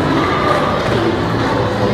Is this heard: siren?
no